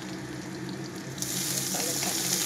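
Spinach leaves hit a pan of boiled potatoes and lightly browned onions, the sizzle jumping louder midway and crackling steadily close by.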